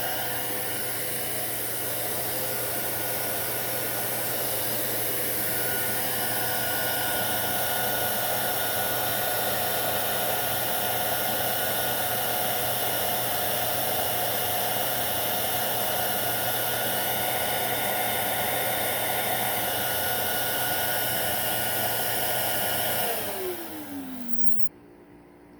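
Hoover S3341 Constellation vacuum cleaner running with the suction relief closed, a loud, steady whining roar sustained for over twenty seconds before the motor spins down and fades at the end.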